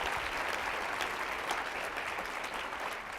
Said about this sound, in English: can we have a round of applause, please? For you guys.